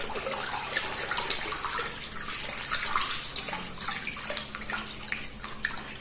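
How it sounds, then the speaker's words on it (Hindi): Water is stirred rapidly by hand in a container, giving a continuous close sloshing and gurgling wash with small splashes throughout. "तो ये मैंने बहुत तेजी से पानी को काफी तेजी से घुमा दिया।"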